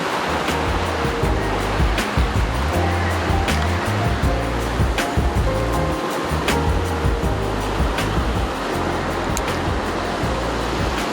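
Water pours steadily out of a 20-liter container into a tub at an Idaho hot spring, a continuous loud rushing splash that holds evenly throughout.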